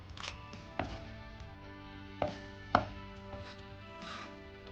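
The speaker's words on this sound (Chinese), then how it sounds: "再把油菜杆的位置用刀拍破，然后切成小段" Four sharp knife chops through bok choy stalks on a cutting board, spaced irregularly, close and clear against a quiet background.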